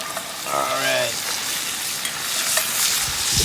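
Seasoned potatoes with salt, cracked pepper and garlic powder fry in a pan at a forest campsite, giving a steady close sizzle with brief scraping stirs early on and no speech.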